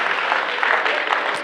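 Comedy club audience clapping and laughing after a punchline, a short, dense burst of applause from many hands at close-to-medium distance, mixed with a few crowd voices.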